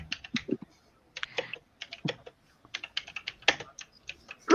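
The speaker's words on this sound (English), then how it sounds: "Who's typing?" Close typing on a computer keyboard, with brisk clusters of crisp key taps broken by short pauses and no voices.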